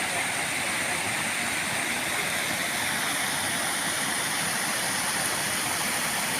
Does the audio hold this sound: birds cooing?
no